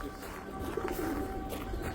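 Pet pigeons cooing in a loft in Ankara, soft repeated low coos close by amid a light background murmur.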